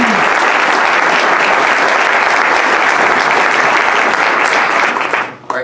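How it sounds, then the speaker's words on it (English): Audience at a Rotary Club of York congressional debate meeting gives a dense, loud round of applause that holds steady throughout, then quickly tapers off at the end. "So let's give them one round of applause."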